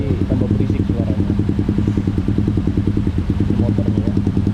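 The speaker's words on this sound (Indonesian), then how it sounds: "Bener-bener bising knalpotnya." A motorcycle with a loud custom exhaust idling nearby on a busy Bali street in the morning, a rapid pulsing, rattling low throb that stays steady and prominent throughout.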